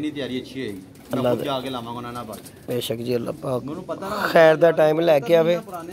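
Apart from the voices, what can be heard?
pigeons cooing in a coop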